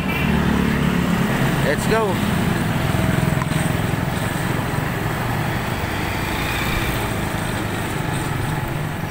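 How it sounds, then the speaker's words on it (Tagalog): Motorcycle ride to pick up onion orders at a market, with a steady, close engine drone and road rumble running throughout while someone talks over it. "Nasakay na sa aking motor."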